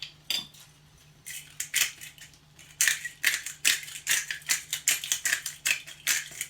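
Salt and pepper ground or shaken over salmon in a pot, a series of quick gritty rattling crunches in rapid bursts, close and fairly loud with no talking.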